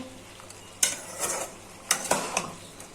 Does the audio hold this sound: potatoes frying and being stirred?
yes